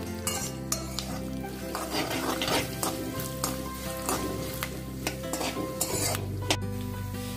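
Coconut slices and peanuts stir-fry in oil over a high flame for thin poha chivda, giving a loud, continuous sizzle with frequent scraping strokes and occasional clinks of a spoon against the pan.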